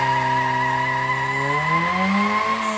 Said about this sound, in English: did you guys hear how fast that revved up when I turned on the fuel?